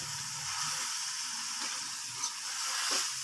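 Minced meat keema fries in a pan with garlic-ginger paste, salt, turmeric and spices. It gives a continuous close sizzle and hiss, with a few soft stirring scrapes and no talk.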